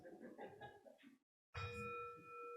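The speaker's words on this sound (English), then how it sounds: "We ring the gong 3 times." A gong is struck once in a quiet room after soft background sounds, giving a sudden loud clang that rings on with a steady, sustained shimmer.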